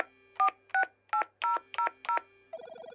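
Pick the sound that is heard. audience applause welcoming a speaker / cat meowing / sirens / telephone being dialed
telephone being dialed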